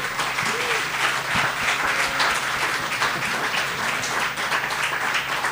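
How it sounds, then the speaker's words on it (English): Dinner audience applauding the chefs at an Epic Chef cook-off night, a sustained, dense round of clapping that holds steady throughout with faint voices mixed in. "a round of applause for our chefs tonight."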